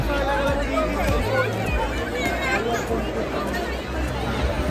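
Dense hubbub of many voices at a crowded Navratri fair in Thane, with market stalls selling garba clothes, earrings and bags, a steady wash of overlapping chatter with no single voice standing out.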